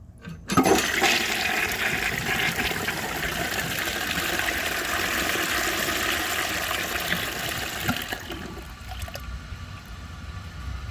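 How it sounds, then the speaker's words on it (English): A 1950s Kohler Trent toilet flushes in one steady, loud rushing gush of water that runs for several seconds, then drops to a quieter refill trickle. "I'm going to give this another flush just to clear the rest of this dirt out"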